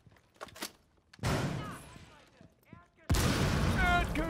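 Gunshots from the Rainbow Six video game, with a couple of sharp loud bursts of fire separated by quieter stretches, the second burst sustained and close.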